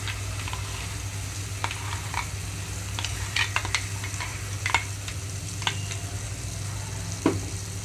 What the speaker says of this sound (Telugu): తాలింపు అంతా కలిపేస్తున్నాను.